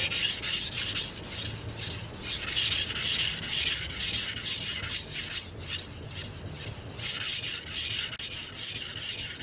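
A kitchen knife is sharpened on a wet sharpening stone, with repeated rhythmic rasping strokes back and forth, loud and close, in regular pulses with no talking.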